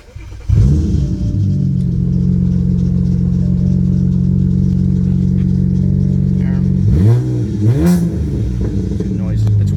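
A 2010 BMW 335i turns over and catches, then settles into a loud, steady idle close by, with two sharp throttle blips that rise and fall near the end; a voice speaks briefly over it.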